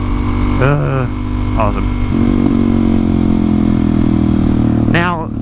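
A motorcycle rides past with a steady engine drone that swells and rises in pitch as it goes by, close and loud, while a rider on a Suzuki DR-Z400SM talks over it.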